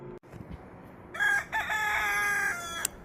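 A rooster crows loudly and clearly inside a hen enclosure, one long drawn-out call after a brief low cluck, with a short sharp squawk at the very end.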